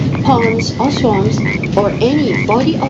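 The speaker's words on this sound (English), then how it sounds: "You can also hear the frogs croaking at the background" Frogs croak repeatedly in the background of a podcast, their rising, chirping calls overlapping in a steady chorus beneath a voice speaking over them.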